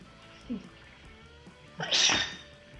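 A single sneeze indoors, sharp and breathy near the end after a short quiet lead-in with a small vocal sound, close to the listener.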